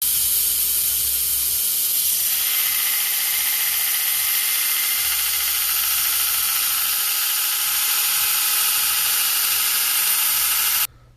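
A 2x72 inch belt sander powered by a motor salvaged from an old air compressor runs with a loud, steady whine and hiss close by, cutting off abruptly at the end.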